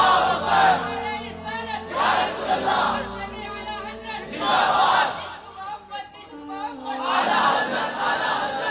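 A large gathering at a religious sermon chants slogans together in loud, rhythmic bursts, several rising and falling waves of massed voices separated by brief quieter gaps.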